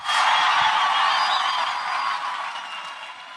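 A church congregation claps and cheers in a dense, bright wash of applause that holds steady and then eases slightly toward the end, with no speech over it.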